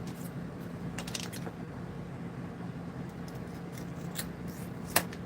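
Scissors make an intricate cut at a hobby workbench, a few faint, close snips and crisp clicks spaced irregularly over a low steady background hum, with a sharper snip near the end.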